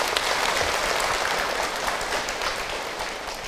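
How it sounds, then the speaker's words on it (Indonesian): An audience of mothers at a religious talk applauds, a dense, even wash of clapping that holds steady throughout and fades a little toward the end. "Tepuk tangan buat Bunda semua yang hadir."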